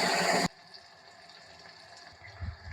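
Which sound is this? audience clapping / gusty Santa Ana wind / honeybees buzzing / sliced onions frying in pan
sliced onions frying in pan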